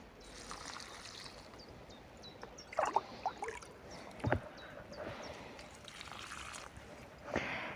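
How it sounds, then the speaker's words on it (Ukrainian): Calcium nitrate solution is poured from a container under tomato plants outdoors in a garden, a faint trickling and splashing of liquid with a few brief louder pours against quiet ambient background. "зараз буду проливати своїм розчином кальцієвої селітри по пів літри по пів літри цього розчину під кожен кущ"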